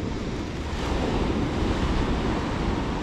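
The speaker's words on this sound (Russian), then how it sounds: "Море, как видите, волнуется, бушует." Rough sea waves roll steadily onto the shore at Antalya, Turkey, in a continuous loud surging wash with wind buffeting the microphone and no voices.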